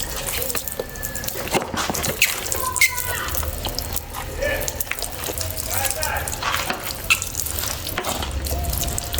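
Water splashes and trickles as a surface is wetted before concrete casting for rail installation, a continuous noisy wash with drips and scraping at a building site, with some talk.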